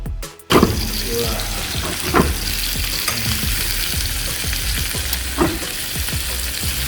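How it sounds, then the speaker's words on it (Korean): Meat sizzles steadily on a hot stone plate at a Korean barbecue restaurant, a continuous close frying hiss with faint clinks and occasional louder sputters throughout. "고기가 타지 않게 굽는 것도 일이거든요."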